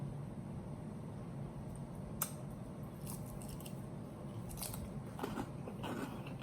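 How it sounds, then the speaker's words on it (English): Close-up crunchy bites and chewing of a salad during a mukbang meal, scattered crisp crackles over a quiet background. "let me eat my salad first"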